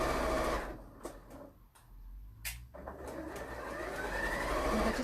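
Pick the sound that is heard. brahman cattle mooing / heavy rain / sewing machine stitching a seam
sewing machine stitching a seam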